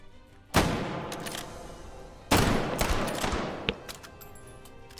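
Heavy bursts of WW2-era gunfire in the VR shooter H3VR, two loud sustained volleys with a few sharper single shots trailing between them, close and dominant with no talk.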